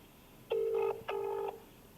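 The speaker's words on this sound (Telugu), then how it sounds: "ఎస్, రింగ్ అవుతుంది." An outgoing phone call rings back twice, two clear tonal bursts of about half a second each separated by a short gap, alone against a quiet background.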